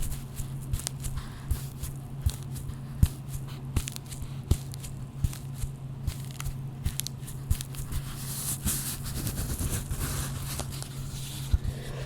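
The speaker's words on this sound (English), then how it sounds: "It's kind of covering a squishy type foam material." Soft, close crinkly squishing and light crackles as squishy foam inside a velvet covering is pressed repeatedly, with small irregular taps over a low background hum.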